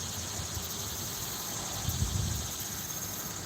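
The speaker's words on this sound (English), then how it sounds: "then you got the cicadas going" Cicadas buzz steadily on a hot day outdoors by a fishing spot, a continuous high-pitched drone holding at a constant level throughout, with a little low rustle underneath and no speech.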